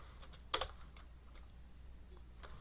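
Keys clack on a computer keyboard as a git command is typed, with one sharp louder keystroke followed by a few quieter, scattered taps in a quiet room.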